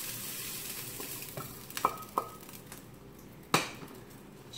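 A spoon stirs rice with corn and broccoli in a pan, making soft, steady scraping and rustling with a few sharper knocks against the pan and a faint sizzle underneath.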